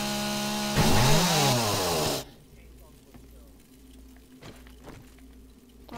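Loud revving chainsaw in the game 7 Days to Die, a dense buzzing burst with a rising and falling pitch for about a second and a half, then cutting off into quieter game noise with faint clicks.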